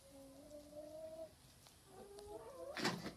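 A hen in a chicken coop makes soft, drawn-out tonal clucks and croons, a couple of sustained calls followed by a louder, sharper squawk near the end, close by and with no talking.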